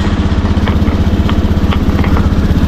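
A motorcycle engine starts and settles into a steady idle with a regular, loud, close-up throb and a few faint ticks over it.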